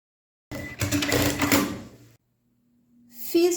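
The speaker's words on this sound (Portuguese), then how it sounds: "Vamos lá na máquina e vamos passar uma costura de pesponto em toda essa borda aqui." A sewing machine topstitching along the edge of a fabric bag runs in two short close bursts of rapid needle clatter, separated by a brief pause with a faint hum.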